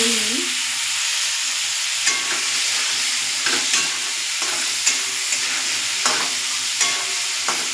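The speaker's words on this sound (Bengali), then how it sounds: "এই তেলেই আমি গোটা জিরে আর কাঁচা লঙ্কা ফোড়ন দিয়ে দেবো। আলুগুলো দিয়ে দেবো," Potatoes and chickpeas frying in hot oil with whole cumin seeds and green chillies, a loud steady sizzle broken by regular scraping stirs of a spatula.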